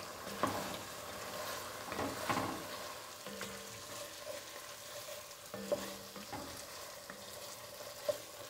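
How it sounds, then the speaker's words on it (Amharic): Meat, onion and tomato fry together in a pot for Ethiopian potato and meat red stew, a soft steady sizzle broken by faint clinks of stirring. "የስጋው መጠበስ ነው። ስለዚህ ይችን እየጠበስኩ ቆያለሁ።"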